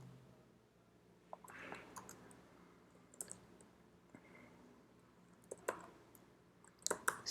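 Light, irregular clicks of keys on a computer keyboard as C++ code is entered, quiet and close, in short uneven bursts with a few louder taps near the end.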